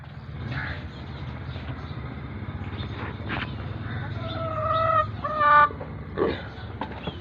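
Hens clucking and squawking at close range over a steady outdoor hum while being fed grain in the morning, with a few louder, sharper calls bunching up toward the end as they fight.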